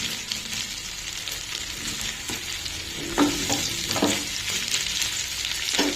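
Big chunks of sweet potato frying in a pan, a continuous crackling sizzle up close, with a few scraping stirs toward the end and no voices.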